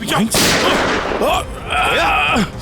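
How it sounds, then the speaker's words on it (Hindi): Gunfire rings out in a Hindi TV crime drama at a site rigged with explosives and mines, with loud sharp blasts mixed with shouting voices and dramatic effects. "माय गॉड, गोली चला रहा"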